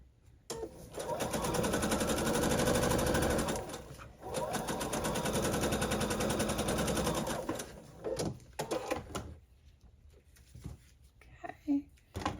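A sewing machine stitches fabric for a Shamrock in Chains quilt block in two long, fast, steady runs separated by a short pause, then stops and gives way to quieter handling noises and a few short sounds.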